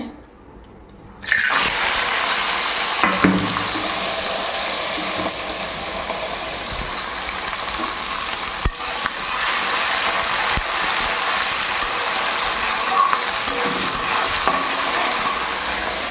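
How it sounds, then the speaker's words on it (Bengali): Chopped onions dropped into hot oil in a pan burst into a loud, continuous sizzle that fills the scene, with occasional scraping and stirring knocks against the pan throughout. "চলো একে একে দিয়ে দেবো এবার পেঁয়াজ"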